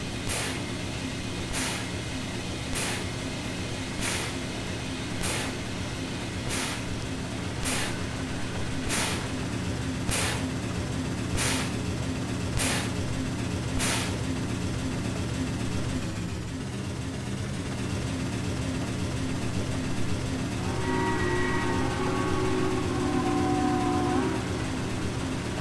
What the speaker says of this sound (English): But man, these things sound really nice. I love that chuff sound.